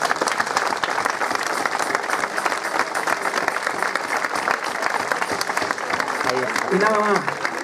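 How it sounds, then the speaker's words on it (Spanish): An audience at a folk festival in the Villa de San Andrés applauds a folk group, a sustained, bright clatter of many clapping hands with a few scattered voices rising near the end. "Un fuerte aplauso para ellos, por favor."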